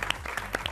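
General applause from a studio audience on an Argentine television sewing programme: a brief, dense wash of many hands clapping at once, steady and fairly close.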